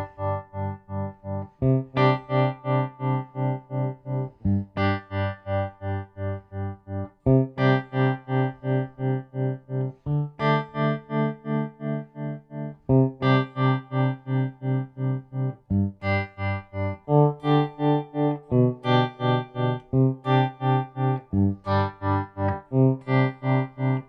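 A guitar run through a Matthews Effects Conductor tap-tempo tremolo pedal set to its sine waveform, with depth and tone turned up, strums sustained chords that pulse in a steady, smooth volume throb across several repeated phrases.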